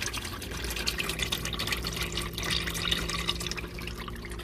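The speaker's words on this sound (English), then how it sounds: "you see it comes out like water, and it sounds like water." Warm used engine oil draining from a 2011 Subaru Outback 2.5L during an engine-flush oil change, a steady faint watery splashing and trickling into a pan, continuous with small drips and no talk.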